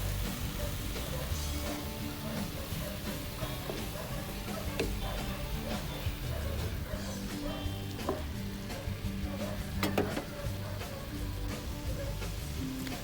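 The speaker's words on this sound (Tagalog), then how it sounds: "Pwede na natin ilagay yung ating pusit. Haluin lang ng bahagya." Squid stirred in a hot pan with cooked tomato for Filipino adobong pusit, a steady loud sizzle and crackle with scattered clicks of a spatula, continuous throughout, no talk.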